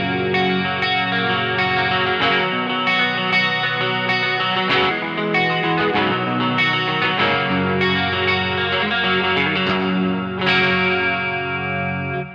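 A clean electric guitar tone from a Quad Cortex modeler, with chiming picked notes and chords, a touch of chorus and echo, played alone, close and steady for about twelve seconds.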